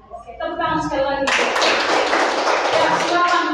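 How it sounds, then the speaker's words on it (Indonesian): Classroom audience at a peer-teaching session bursts into clapping after a brief spoken lead-in, the dense applause rising suddenly and continuing loudly to the end. "Oke, tepuk tangan sekali lagi."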